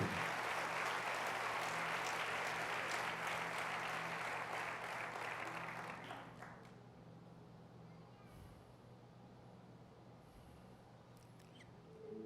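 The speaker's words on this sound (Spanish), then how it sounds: "Dele ese aplauso a Él." A church congregation applauds in a fairly faint, dense patter that continues for about six seconds and then fades out, leaving a quiet room with low hum and a few small knocks.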